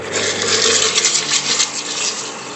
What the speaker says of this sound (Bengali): আদা রসুনের কাঁচা গন্ধটা না যাওয়া পর্যন্ত ভালো করে কষে নিতে হবে মশলাটাকে